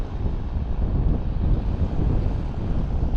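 A vehicle engine drones steadily and slightly muffled, a continuous low rumble with broadband noise that stays even throughout, no voices present.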